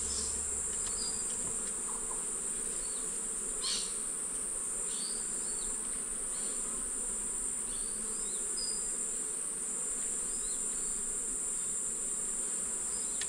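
Honey bees buzz in a dense, steady drone during an open beehive inspection, with individual bees flying past up close, all under a constant high-pitched background hiss and no talking.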